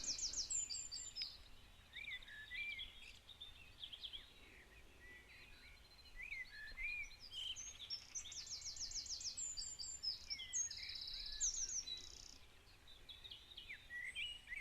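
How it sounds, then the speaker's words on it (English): Songbirds chirp and twitter faintly in a quiet garden, with scattered high calls over a soft steady background hum of insects or breeze. "The bird song,"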